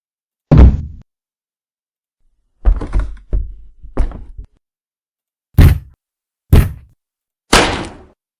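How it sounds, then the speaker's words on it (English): Wooden sticks knocked and dropped, giving six separate hollow thuds and knocks spaced out with silence between them, close and loud, some with a brief rattling tail. "Wood thud."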